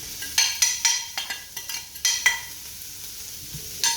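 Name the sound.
stir-frying spring onion in pan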